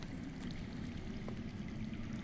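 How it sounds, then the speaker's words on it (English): Underground water in the video game Game of Thrones Telltale flows as a steady, low, muffled rushing stream, continuous and faint with no voices. "I hear water. From underground."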